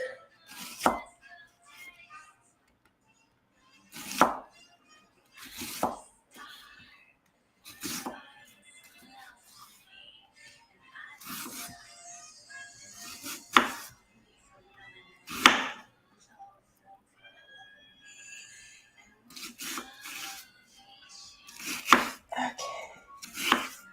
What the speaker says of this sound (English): I really don't want to cut an onion.